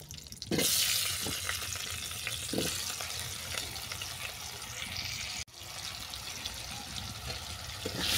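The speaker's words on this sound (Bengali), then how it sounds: "এই তেলের মধ্যে আলুটাকে ভেজে নেব।" Potatoes frying in oil left over from browning fish heads, a dense continuous hiss and crackle filling the whole stretch, with a brief dropout midway and a few faint knocks.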